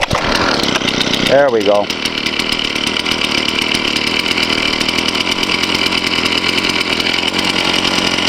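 A gas-powered T-post driver's small engine runs steadily and loud throughout, after a brief revving start, with a person speaking briefly over it.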